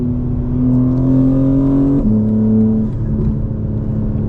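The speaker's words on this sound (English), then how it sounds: "The intakes almost sound like a blow-off valve. It's crazy. You can hear the boost" A 2024 BMW M4 accelerates hard, its engine and intake droning loudly and rising in pitch, then a shift or lift-off brings a sudden drop and boost release before the tone climbs again.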